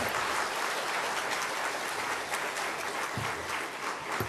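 Congregation applause at a Wednesday church service in a Korean Presbyterian setting, welcoming a visiting pastor; dense, steady clapping fills the room throughout without pause.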